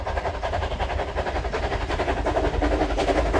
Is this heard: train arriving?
yes